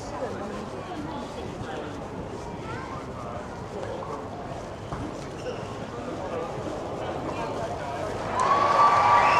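A big crowd at an Australian Open tennis arena roars as a steady, dense wash of cheering and chatter, swelling louder near the end, with nearby voices talking over it.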